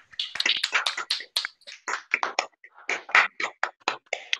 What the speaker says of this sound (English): I suggest that we all unmute and give Jiayi a big round of applause.